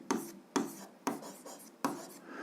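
A pen or pencil writes out a physics solution in five quick, evenly spaced scratchy strokes, faint and close.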